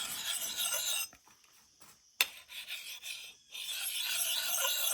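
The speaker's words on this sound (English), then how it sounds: "So I'm just kind of changing the angle as I sharpen." A survival tool blade with a convex edge is stroked across a sharpening stone in long, close rasping passes, broken by a short quiet gap and a sharp scrape in the middle.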